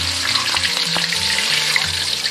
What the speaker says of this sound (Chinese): 我们把这个青红椒倒入锅里面，大概浸炸个5秒就可以捞起来